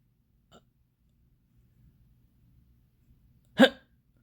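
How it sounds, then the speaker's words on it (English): A cartoon character, Little Miss Splendid, gives one sharp, close hiccup near the end after a tiny earlier hic, with near silence in between. "did I just got the hiccups?"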